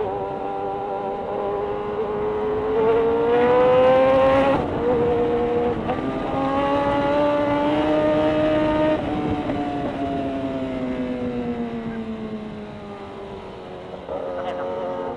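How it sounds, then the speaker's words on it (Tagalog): A vehicle engine climbs a mountain road with rising and falling tonal revs, steady and fairly loud, as a voice speaks briefly. "May sasakyan na."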